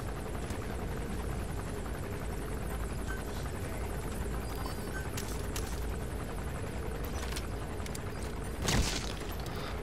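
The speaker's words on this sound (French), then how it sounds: "Il y a un hélico dans la zone." Helicopter in Metal Gear Solid V flying over the game zone, a steady rotor whir throughout with a short loud burst near the end, no talk.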